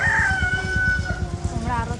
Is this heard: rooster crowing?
yes